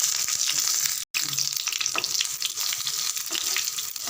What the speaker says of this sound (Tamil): நல்லா பொரிஞ்சிடுது